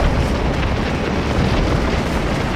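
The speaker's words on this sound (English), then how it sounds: "Our boys are firing." Massed infantry musket fire in the Civil War game Scourge of War: Antietam at Dunker Church, a loud dense roar of overlapping gunfire and booms that continues without break.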